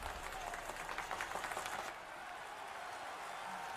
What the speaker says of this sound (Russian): А че все хлопают?